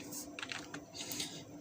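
Typing on a computer keyboard, a short quick burst of soft clicking keystrokes, close and quiet, with no voices.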